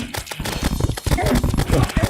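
Horse hoofbeats from the video game Terraria, rapid clip-clop galloping under steady overlapping talk and game sounds, with a possible brief whinny.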